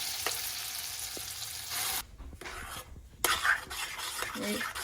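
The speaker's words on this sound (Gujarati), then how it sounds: "હવે આપણે એમાં જે ગ્રેવી બનાવી છે એ આપણે અંદર એડ કરી દઈશું." Gravy being added to a pan for palak paneer and stirred, with soft sizzling, scraping and spoon-on-pan clinks, a brief hush midway, then renewed stirring nearby.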